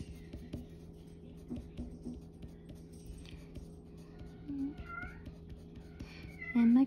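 A cat meows a few times, soft and fairly close, with a louder cry at the end, amid quiet rustling and scratching.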